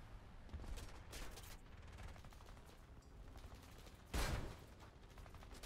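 Gunfire in the War Thunder video game plays as bursts of rapid automatic fire. Bursts come around one second and near three seconds, and a louder burst lands past four seconds, all at a faint, distant level with no talk.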